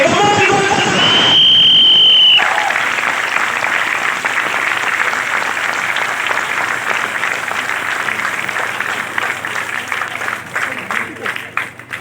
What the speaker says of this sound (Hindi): ताली रुकनी नहीं चाहिए, एनर्जी कम नहीं होना चाहिए।